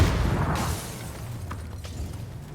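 A frag grenade explodes in PUBG, a fairly loud burst at the start that decays into background game noise, with a couple of faint clicks afterward.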